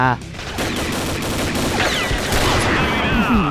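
Gunfire in the video game Combat Arms Reloaded, dense overlapping shots close and loud across the stretch, mixed with game effects and an excited voice talking.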